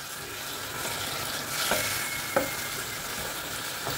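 Water for gravy coming to a boil in a pan, a steady close bubbling hiss and sizzle with a few brief pops and clinks over about four seconds, no talk.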